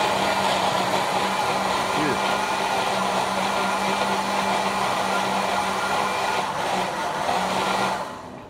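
A kitchen blender runs steadily near the microphone, a loud continuous motor whir with a low hum, blending food for a brown stew dish with beetroot, then winding down at the end.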